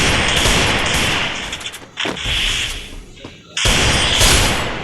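Desert Eagle pistol fire in the Free Fire video game: loud, dense bursts of gunfire that fill most of the clip, broken by a short lull partway through before the shooting resumes.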